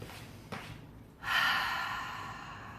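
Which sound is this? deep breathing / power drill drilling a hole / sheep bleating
deep breathing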